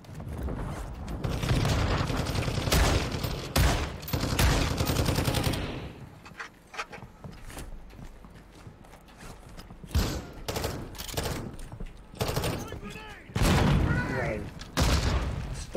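Bursts of automatic gunfire in the shooter game DMZ, loud rapid volleys in the opening seconds, then scattered shorter bursts and single shots with quieter gaps, closing on another heavy burst.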